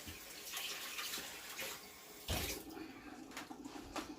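Water poured from a cup onto two tablespoons of all-purpose flour to make gravy, a soft continuous trickle and splash in a home kitchen, close and fairly quiet.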